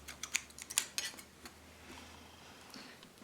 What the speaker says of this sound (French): Ici, on va pouvoir les couper. Le ciseau.